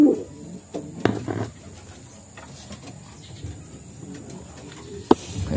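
Pet birds coo softly in a home aviary, a few low calls spread across a quiet scene with occasional rustles and knocks.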